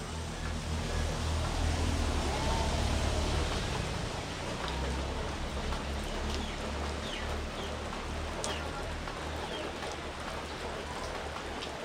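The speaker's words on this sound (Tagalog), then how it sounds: "Unti-unti nang humuhupa ang ulan" Steady rain falls on surfaces all around, a constant soft hiss with scattered drops and no voices.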